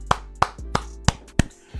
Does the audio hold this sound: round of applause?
yes